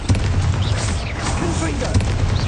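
The Confringo fire spell detonates in Hogwarts Legacy, with loud, dense booming blasts in continuous combat noise while a voice shouts over the explosions.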